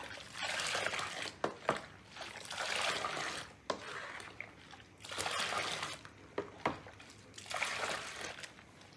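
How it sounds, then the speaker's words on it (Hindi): A cloth wrung out in warm water mixed with baking powder for cleaning, giving bursts of dribbling, splashing liquid that come and go in several waves, close and fairly quiet, with no talk. "यहाँ पे एक कपड़े को ना मैं ऐसे इसमें डाल के निचोड़ लेती हूँ।"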